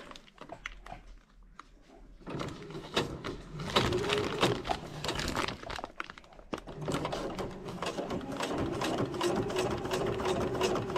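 A sewing machine stitches around a dyneema stuff sack in fast rattling bursts, close and fairly quiet, with a brief pause before stitching resumes steadily to the end.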